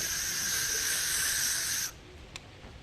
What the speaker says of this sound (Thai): สเปรย์สเปรย์เพราะว่าเวลาพูดเดี๋ยวน้ำลายกระเด็น